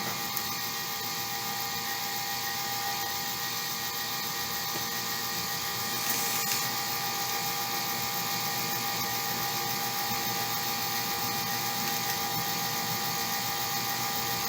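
An RCBS Trim Pro 2 power trimmer cutting brass cartridge cases makes a continuous, close, high-pitched motor whine with a buzzing mechanical edge, steady and unbroken throughout with no voices.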